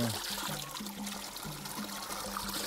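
Spring water flows out from under rock in a cave-like source, a steady close rushing trickle with a low gurgling pulse running underneath throughout.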